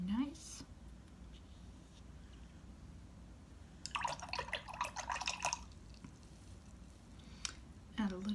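Water drips and trickles onto acrylic paint on a palette during a brand comparison, a soft wet patter of small splashes and squishes in the middle of the clip, faint and close, with light handling noises around it.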